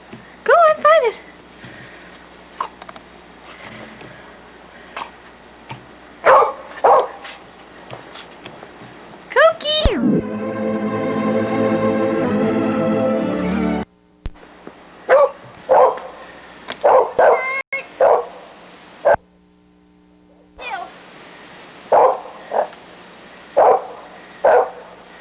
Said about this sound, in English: There's our barking dog.